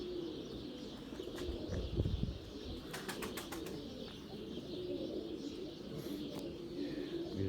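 Racing pigeons, among them the bird Gökbey, coo softly at a loft amid a short burst of flapping wings and a few high chirps, with light ambient noise and little talk.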